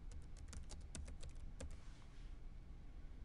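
Typing on a computer keyboard gives a quick run of sharp, close key clicks in the first two seconds, then trails off into faint background hum.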